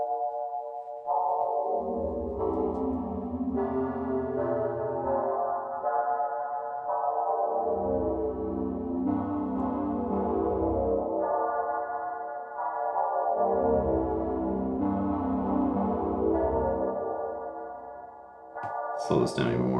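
Slow Arturia MicroFreak synthesizer chords with a washed-out reverb tail, sustained tones shifting every few seconds, smooth and full with a deep low end.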